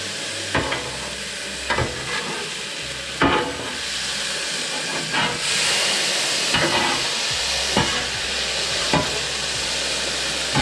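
Cooked steak and onions tossed and stirred in a hot pan for a Philly cheese steak, steady sizzling with repeated scraping clatters of a utensil at intervals, close and alone with no talk.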